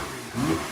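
A Porsche 991.2 Turbo engine revs with its exhaust valves open, giving a brief rising swell from a steady idle-like hum and then easing back down, close and fairly loud, with no one speaking.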